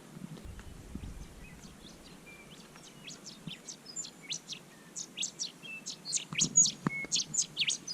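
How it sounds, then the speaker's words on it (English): Birds sing outdoors with repeated bright chirps and tweets, growing busier and louder toward the end, over faint low background noise. "A nice morning, you can hear the birds singing."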